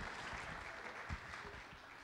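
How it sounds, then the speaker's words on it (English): Scattered audience applause at a school jazz concert, faint and fairly distant, a light steady patter of clapping with a few low thumps. "you can clap for him"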